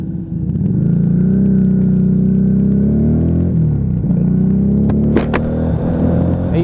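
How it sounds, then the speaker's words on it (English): Loud, steady exhaust drone of a Lexmoto Vendetta motorcycle while riding, a continuous low engine note with slight dips as the throttle eases, recorded close from the rider's position with wind rumble. "you can still hear that exhaust note"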